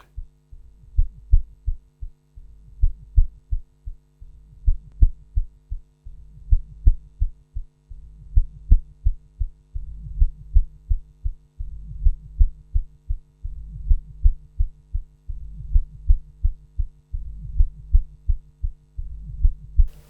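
Synthesized techno bass line run through a compressor, pounding as steady, evenly spaced low thumps with a throbbing hum beneath, repeating for the whole stretch with no voices.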